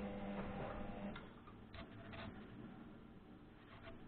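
A washing machine, filled by hand from a 10-litre canister where there is no running water, runs its wash cycle with a faint, steady mechanical hum and soft ticking.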